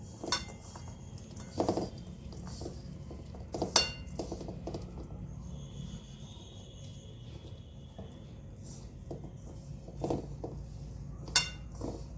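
Jaggery being stirred and mixed in a bowl, with repeated clinks and scrapes of a spoon against the bowl, a few sharper knocks standing out over a steady low background.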